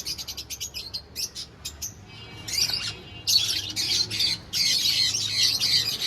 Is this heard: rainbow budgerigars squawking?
yes